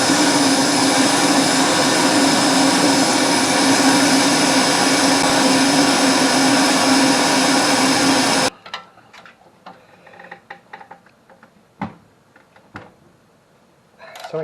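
A torch roars steadily and loudly while heating seized nuts on an old BIO100 wood chipper mulcher, then cuts off abruptly, leaving quiet clicks and metallic knocks.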